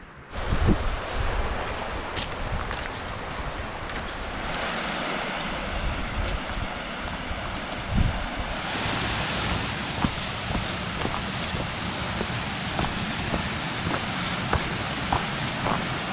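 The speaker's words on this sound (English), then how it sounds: "not exactly the waterfall we're looking for" A waterfall pours through a gorge in a steady, dense rushing roar that fills the whole stretch evenly and sounds close by, growing slightly brighter partway through, with no talking.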